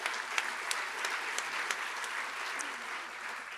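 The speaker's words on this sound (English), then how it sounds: "Oh yes, applause." Audience applause at an evening event at the Square, a steady wash of many hands clapping with a few sharper claps poking out, moderately loud and continuous, with no voices.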